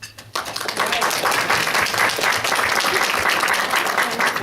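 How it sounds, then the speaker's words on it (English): Applause rises quickly and then holds as a dense, steady patter of many hands clapping, given in honour of members of a religious order at a gathering. "I'd like to just give you a personal applause."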